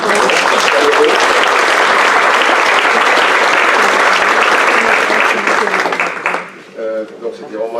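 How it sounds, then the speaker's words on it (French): Sustained audience applause after a presentation on inheritance taxation, a dense wash of many hands clapping for about six seconds before fading as a voice begins speaking. "Je crois que ça mérite des applaudissements."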